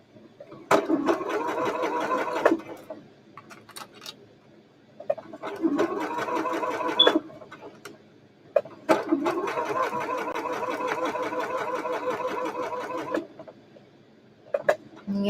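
A sewing machine stitches shirt fabric darts in three bursts of rapid, even whirring, with short quiet pauses between them, close and clear with no talk.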